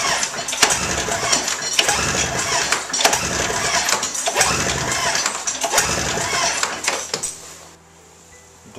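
A snowmobile two-stroke engine is cranked with the recoil pull cord at full throttle during a compression test, giving a string of loud, rough churning pulls before it cuts to near silence at the end.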